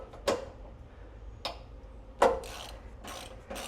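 Socket wrench with a 13 mm socket on a long extension loosening exhaust bolts under a car, giving a few separate sharp ratchet clicks spaced apart, close and alone with no talking.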